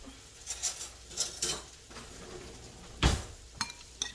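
A utensil stirs a lightly salted meal-kit mixture in a bowl, giving a series of faint scraping and clinking taps spread irregularly across the stretch, with one sharper knock toward the end.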